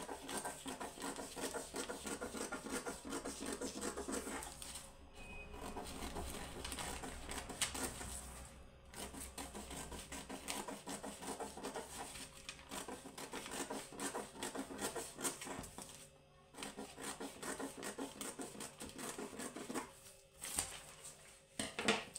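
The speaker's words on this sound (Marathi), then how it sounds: "तर आपण कटिंग करून घेऊया" Scissors cutting a paper pattern for a size 34 katori blouse, giving a steady, close run of crisp snipping and rustling paper with a few brief pauses.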